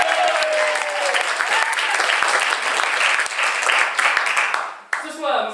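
A studio audience applauds three finalists on a quiz show, dense steady clapping filling the room for about five seconds before fading out as a voice begins.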